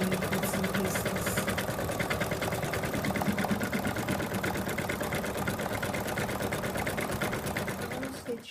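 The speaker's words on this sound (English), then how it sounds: "And we'll put it back in the machine. It's now going to do the outline of all the bits and pieces." An embroidery machine stitches the outline of appliqué pieces, a steady rapid mechanical whirring and ticking that runs continuously and fairly loud, with a faint voice under it.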